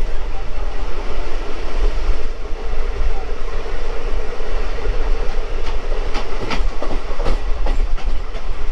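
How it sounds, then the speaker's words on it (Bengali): A local EMU train car set runs through Sonarpur with a loud, steady rumble, bursts of clickety-clack from the wheels toward the end, and no voices. "বন্ধুরা এই হলো লোকাল ট্রেনের কার সেট সোনারপুর"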